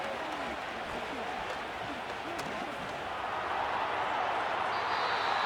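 Stadium crowd noise from a simulated NFL Wild Card playoff game between the Bengals and Texans in Madden NFL 25: a steady roar with scattered clapping that swells slightly toward the end, running under a commentator's voice.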